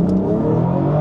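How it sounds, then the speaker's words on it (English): BMW 440i in sport mode launching hard from a standstill, its engine revving loud and close in a steady, full-throated roar for about a second, with no talk. "I just want to take her for a quick launch"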